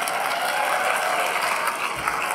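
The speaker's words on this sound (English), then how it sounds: "Can we give another round of applause for Symphony and Mr. Yonkers?" Dense, continuous clapping from an audience at a school pops concert, steady and fairly loud throughout the short stretch, with no voices standing out.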